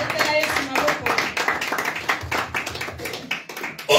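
Congregation clapping in acclaim of the Lord during a church night service, a steady rhythmic patter of many hands close by, with voices mixed in throughout.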